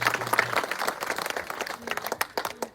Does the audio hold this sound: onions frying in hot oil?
no